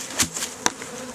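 Honey bees buzz close by while honey supers are pulled from a hive, with a dense hum and a few sharp passes and knocks from handling the frames.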